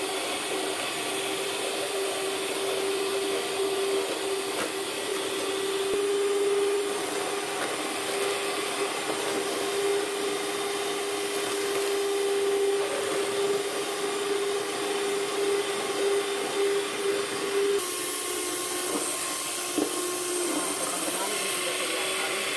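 Electric hand mixer whirs steadily at close range, beating sugar, emulsifier, salt and three eggs for a pandan sponge cake batter, with its tone shifting slightly near the end.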